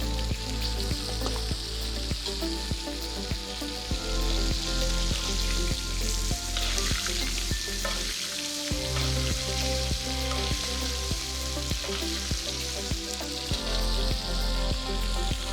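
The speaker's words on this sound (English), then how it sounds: "We sear on the other side." A prime ribeye steak sears in foaming butter with thyme and rosemary, making a loud, unbroken sizzle with dense crackle and spitting that holds steady the whole time, with no talking.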